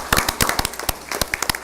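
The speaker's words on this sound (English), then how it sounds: "join me in a round of applause for all of our year's honorees" Applause for the year's honorees at a city council meeting: a crowd's clapping rings out as dense, uneven claps with sharper individual hits throughout, fairly loud and close, with no talking over it.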